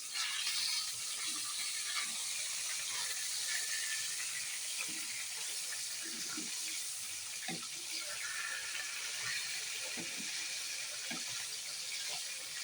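Fish fries in a pan over a low gas flame, giving a steady, even sizzling hiss for the whole stretch, with faint scattered crackles and no clear talk.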